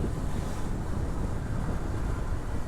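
Steady, loud wind roars across the microphone of a motorbike riding along a tree-lined road on a misty afternoon, a constant broadband rush with no pauses and no voices.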